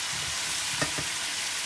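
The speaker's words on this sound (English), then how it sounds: "Put in the potatoes. Give this all a good stir through." Potatoes frying in a spiced pan, a steady faint sizzle with a couple of brief stirring scrapes near the middle.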